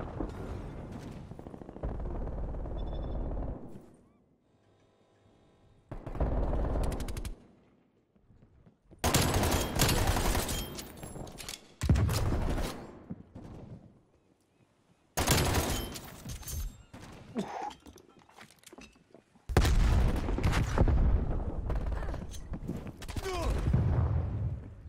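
Rapid pistol fire from an AMP63 in a hardcore Call of Duty Cold War match, loud dense bursts repeating in several clusters with short quiet gaps between them.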